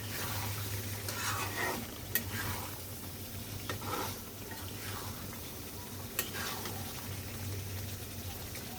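Spices fry in released oil in a pan with a constant low sizzle, broken by stirring scrapes and a few sharp clinks of a spoon against the pan, at a moderate distance with no talking.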